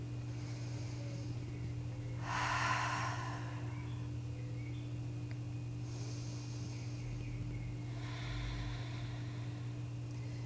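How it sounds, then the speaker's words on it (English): During a yoga session for wrist pain, a person takes slow, deep centering breaths. Three soft, airy inhales and exhales come several seconds apart over a steady low electrical hum, with no talking. "let's take 5 centering breaths to come into the moment"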